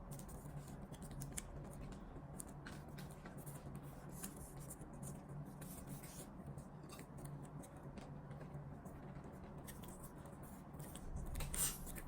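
Origami paper is folded toward the center, opened and folded again for an eight-point knife model. Quiet, close rustling and scratchy creasing continues steadily, with a fuller handling rustle near the end.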